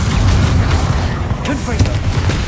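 Booming blasts from the Bombarda explosion spell in Hogwarts Legacy, loud thumping impacts layered with crackling debris, a sharp burst near the middle over constant combat noise.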